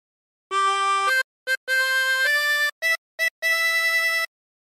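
A 16-hole tremolo harmonica plays the opening notes of O Christmas Tree alone, with clear sustained tones broken by short gaps between them.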